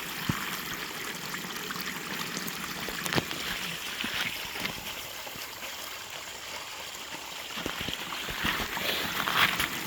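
Water running steadily through a Flour Gold Wizard micro gold cleanup sluice, a continuous close trickle and splash with scattered clicks and knocks, no speech.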